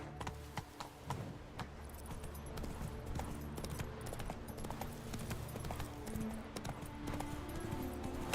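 A horse in The Witcher 3 video game gallops with steady, close clip-clop hoofbeats that run throughout, over an ongoing background of game music and ambience.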